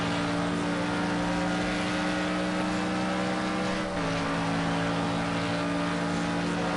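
Mercedes GT3 race cars drone down the straight at Barcelona in a racing game, a steady sustained engine tone with a brief pitch dip midway, loud and continuous with no talk.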